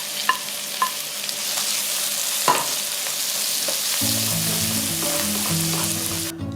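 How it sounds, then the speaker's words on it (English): Tomatoes and chilies fry in a curry tempering mixture for chana dhal curry, giving a steady close sizzle with a few sharp utensil clinks early on. "Time to add in the tomatoes and chilies into the mixture. Cook till tomatoes have melted into the tempering mixture."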